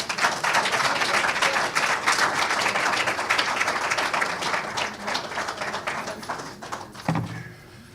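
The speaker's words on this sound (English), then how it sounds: "Please give him another round of applause" An audience at a book launch event applauds in a dense, continuous round of clapping that thins out and fades toward the end.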